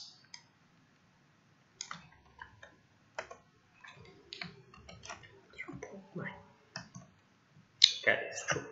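Typing on a computer keyboard during an R programming workshop, scattered quiet key clicks in short irregular bursts with pauses, growing busier toward the end, with no talk over them.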